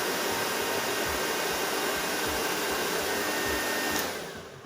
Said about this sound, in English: I'm only turning the hairdryer off so you can actually hear